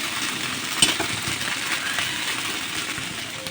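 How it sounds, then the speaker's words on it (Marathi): A thin, lacy rice flour dosa cooks uncovered on a hot pan, giving a steady soft sizzle and crackle with one brief clink near the start and no voices. "झाकण काढल्या काढल्या आपल्याला डोसा पलटी करायची नाही दोन मिनटं पुन्हा एकदा असा त्याला मोकळा टाकून छान याला कडक होऊ देणार आहे"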